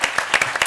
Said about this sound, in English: Could you give the fantastic panel a round of applause?